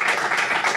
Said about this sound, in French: Bravo Pierre, applaudissements.